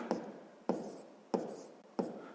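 Writing on a board during a sixth-grade maths lesson: four crisp strokes at a steady pace, each a sharp scratchy attack that fades quickly, close and fairly quiet, with no talk.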